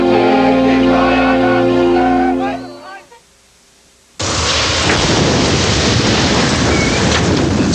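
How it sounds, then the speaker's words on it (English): Heavy rain with a thunderstorm in a TV commercial, a dense roaring downpour that cuts in loud and steady after a short quiet gap, following a stretch of musical tones. "It seemed like the rain would never stop."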